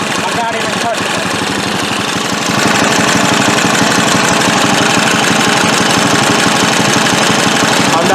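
A Craftsman lawnmower engine that had sat unused for eight years idles on its own, a loud, steady, rapid chugging with a rough, knocking pulse that grows a little louder partway through and keeps running without pause.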